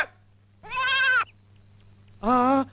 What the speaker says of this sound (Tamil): வயல்ல ஆடு மேயுதே